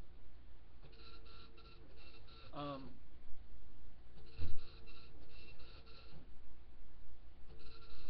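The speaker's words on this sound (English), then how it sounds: "Any dot matrix printer will work." A dot matrix printer prints a tattoo stencil, giving bursts of buzzy rhythmic head chatter in short repeated passes, close and moderately loud, with a brief squeak and thump partway through.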